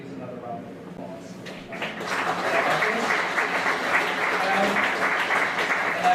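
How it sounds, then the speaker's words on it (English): Audience applause rising after a yin Mei installation performance and artist talk, starting modest amid some talk and swelling to a full, steady clapping across the room. "but please another round of applause."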